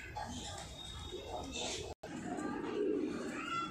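Rampuri female pigeons giving soft, low cooing calls at close range, quiet and brief, with a voice talking over them.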